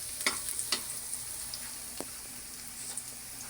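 Fish fries quietly in a pan, a faint steady sizzle broken by a few soft pops and light taps, heard alone at low volume.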